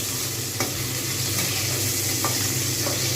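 Pieces of fish fry in hot oil, giving a steady, dense sizzle with crackling spatter and a few brief stirring scrapes, close and continuous.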